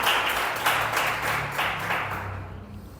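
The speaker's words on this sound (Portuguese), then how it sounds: "Dê um aplauso a Ele por isso." Church congregation applauding during a sermon, a steady wash of clapping hands that fades out toward the end.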